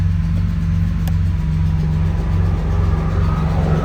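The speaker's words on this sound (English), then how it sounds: "you can hear it coming out through a defrost vent up top." Steady broadband blower rush with a low engine hum underneath, from the heater fan of a 1977 Porsche 911 Targa pushing air out through the defrost vent, continuous and close throughout.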